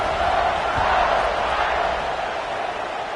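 A football stadium crowd roars and cheers continuously during a kickoff, a loud, dense wash of distant voices filling the whole stretch.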